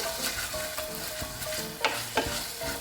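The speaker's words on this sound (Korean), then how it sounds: "볶아주세요 또." Tteokbokki with pollock roe and butter being stir-fried in a pan, a constant sizzle under repeated scraping and tapping of a utensil, with two sharper knocks toward the end.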